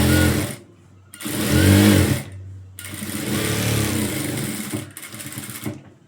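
Sewing machine stitching a blouse, running in bursts of steady motor whir separated by short pauses, close and fairly loud, with no talk over it.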